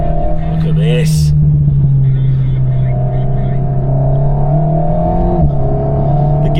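An Alpine A110S with a seven-speed DCT gearbox drones steadily and loudly from close by, with one quick gear-shift dip in engine note late on.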